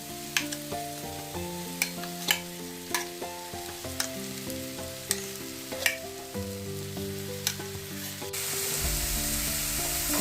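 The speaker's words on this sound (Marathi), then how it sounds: "वाटण आता ह्या मसाल्यामध्ये सगळं एक करून घ्यायचं" Ground masala paste for a cluster-bean kheema is stirred in a pan, with sharp spoon taps and scrapes recurring every second or so over a quiet sizzle, while soft melodic music plays throughout.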